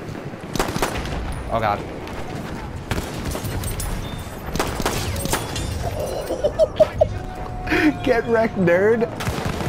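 Gunfire in the video game Battlefield 1, including pistol shots, with sharp scattered shots and several quick bursts alongside other game sounds, while a player talks briefly in between.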